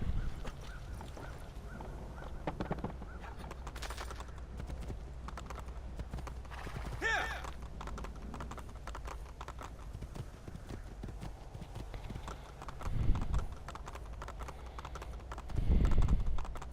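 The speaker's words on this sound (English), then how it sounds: "And we jump on a horse." A horse ridden in the video game Assassin's Creed 2 trots with rhythmic clip-clop hoofbeats under quiet game ambience, with a few louder thumps toward the end.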